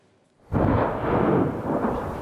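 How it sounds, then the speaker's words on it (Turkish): A deep, rumbling blast bursts out after a brief near-silence and keeps roaring loudly, like a volcanic explosion, with no voices. "Yeni patlamalarla lav akışı hızlandı."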